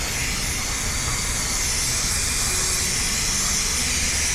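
Cleaner sprayed onto the pistons of a quad-piston fixed brake caliper mounted on the rotor of a 2020 Toyota 4Runner: a continuous, close, even aerosol hiss with no pauses.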